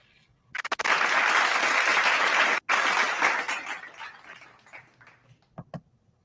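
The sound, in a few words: played recording of applause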